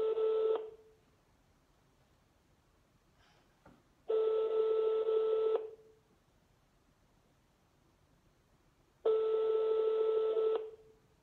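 Telephone call ringing unanswered: three faint, evenly spaced ringback tones, each lasting about a second and a half, separated by long quiet gaps.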